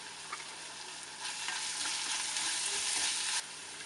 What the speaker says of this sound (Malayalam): പിന്നെ അല്പം ഉപ്പ് കൂടെ ചേർത്തൊന്ന് മിക്സ് ചെയ്ത് കൊടുക്കാം.